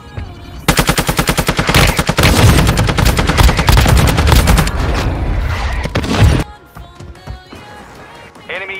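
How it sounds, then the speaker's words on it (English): In the mobile shooter game Warzone Mobile, loud rapid automatic gunfire rattles in dense bursts for several seconds, ending in a heavy blast from a mortar strike, followed by scattered quieter shots. "Mortar strike inbound now."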